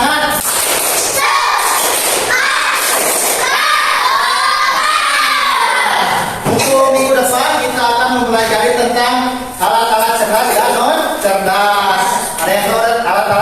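A classroom of children chanting the 'tepuk semangat' clapping chant: loud shouted syllables in rhythm with sharp claps, bursts of group voices rising and falling close by.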